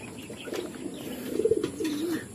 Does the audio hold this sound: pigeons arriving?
yes